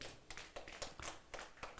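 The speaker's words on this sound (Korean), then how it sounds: "우리 하나님께 영광의 박수" A church congregation claps in a quick, uneven burst of sharp hand claps, fairly soft and without talk.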